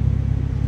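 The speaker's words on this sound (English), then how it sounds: "Now, I did just start the car," A Honda K24 car engine idles steadily just after starting, a loud, even low rumble with a faint rhythmic pulse across the brief moment.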